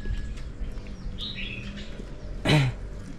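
A caged bird, a seven-colour bird kept with a crested myna, gives a few thin chirps over low background rumble, followed by a brief louder rustle near the end.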